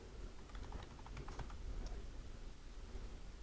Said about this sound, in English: And I'll type intersect.